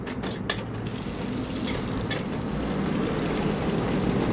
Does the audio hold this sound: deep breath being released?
no